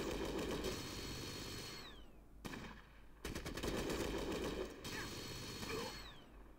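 Rapid bursts of automatic gunfire in the video game Fallout Tactics, two long rattling volleys separated by a brief pause, then a third shorter burst, loud and dense with no talking.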